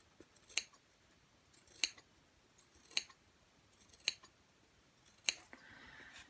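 Scissors snip through a denim seam allowance while sewing blue jeans, five crisp separate cuts spaced about a second apart, close and quiet in an otherwise still room.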